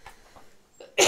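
A single sharp cough bursts out at the end, close and loud, after a few faint breathy sounds.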